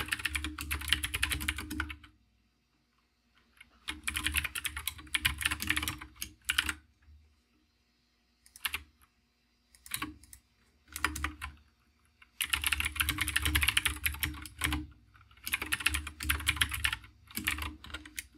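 Close computer keyboard typing in bursts of rapid clicking keystrokes separated by short pauses, with scattered single taps, no speech.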